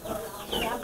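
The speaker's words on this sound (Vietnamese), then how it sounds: "Đây chuồng gà. À, ui nhiều gà thế." Chickens in a coop at a rural Muong village home, a brief close burst of clucking amid a busy background.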